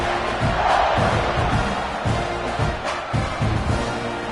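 Stadium crowd in the college football video game NCAA 26 roars steadily after a scoring drive, a dense continuous cheer with rhythmic surges, loud and close throughout.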